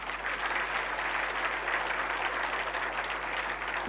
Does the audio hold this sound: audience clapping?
yes